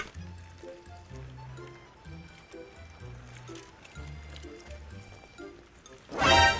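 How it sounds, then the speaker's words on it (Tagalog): Water pours and trickles into a self-heating hotpot, with soft drips and gurgles and a low rhythmic bubbling, ending in a brief louder burst of splashing. "Lagyan na natin ito ng tubig para mag-activate na siya at uminit na siya."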